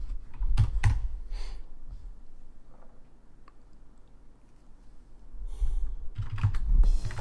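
Computer keyboard typing in short bursts of clicky keystrokes, a cluster near the start and another near the end with a quieter gap between, close and alone without talk.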